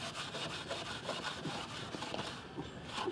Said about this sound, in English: Using a bit of Scotch-Brite, just rough the paint.